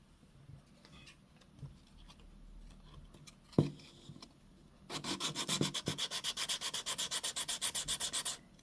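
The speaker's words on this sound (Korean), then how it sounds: "옆면을 먼저 거친 사포로 단차가 없이 평평한 면이 되게 갈아주세요." Coarse sandpaper rubs briskly back and forth along a cowhide saffiano card wallet's edge in fast, even strokes, close and clear after a few quiet handling sounds.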